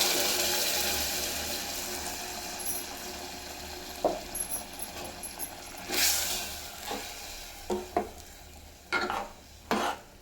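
Avarekalu beans and masala cooking in a hot tempering for sambar, a soft continuous sizzle broken by intermittent stirring scrapes and clatters against the pan.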